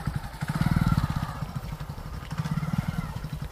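A motorcycle engine thumps with a rapid, throbbing pulse as the bike is put into gear and ridden slowly by a first-time rider, loud and close, swelling and easing with the throttle.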